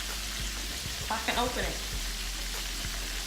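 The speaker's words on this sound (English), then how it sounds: "so I'm just going to let that saute just a little bit" Butter and minced garlic sauté in a small pan with a steady, close sizzle and a few light clicks, while a voice speaks briefly partway through.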